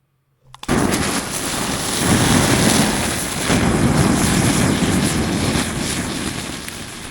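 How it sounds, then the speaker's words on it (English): A mower starts up and runs loud and steady, cutting regrowth from old tree stumps near power lines, with a rough engine drone and broadband thrashing throughout. "And out comes the mower to finish off the work."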